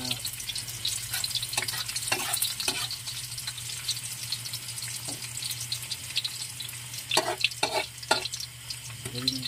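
Onion, garlic and ginger sauté in hot oil for pinakbet, giving a steady close sizzle broken by scraping stirs of a utensil and a few clinks, with no talking.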